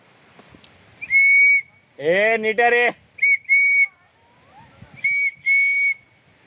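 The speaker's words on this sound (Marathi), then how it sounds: "हे बघा शिट्टी पण आहे ए शिट्टी वाजू का रे" A handheld whistle blown at the Kadape Wadi waterfall near Mangaon: several loud, shrill, steady blasts in short bursts, with a voice talking between them.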